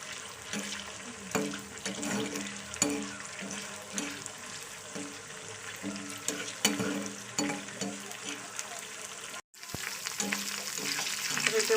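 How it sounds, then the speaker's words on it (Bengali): An egg sizzles and spits in hot oil in a home kitchen pan with onion and dried chilies, a steady close frying hiss broken by occasional stirring clatters, with a low hum and no voices. "এবার ডিমটা ফেলে দিই, দিলে ডিমটা ভাজা হয়ে যাবে।"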